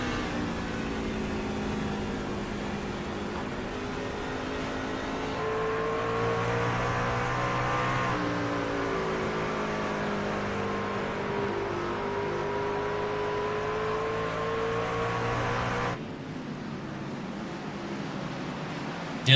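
Onboard engine drone from race leader Kyle Bolin's truck at Bristol in the Stars & Stripes Truck Series, a steady loud roar sweeping slowly up and down in pitch through lap traffic, with a brief dip near the end and no talk.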